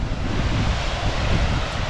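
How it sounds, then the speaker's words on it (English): A breeze blows near the top of Upper Yosemite Falls on a hot day, producing a steady, rumbling wash of wind buffeting the microphone with a low roar like distant surf and no voices. "we got a nice breeze coming up on us"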